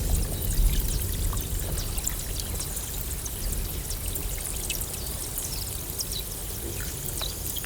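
Meltwater from a melting glacier pours and rushes in a steady, dense wash of splashing water with scattered drips, continuous and fairly loud, with no voices.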